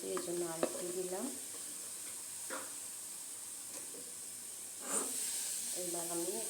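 Semolina fries in a pan with a steady hiss and sizzle throughout, broken by a few soft stirring scrapes, while a voice speaks briefly at the start and end.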